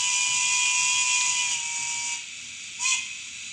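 A Bachmann DCC On30 HK Porter 0-4-2 model locomotive sounds a quilled steam whistle, a sustained layered tone that shifts pitch slightly over about three seconds, loud and steady with a brief swell near the end.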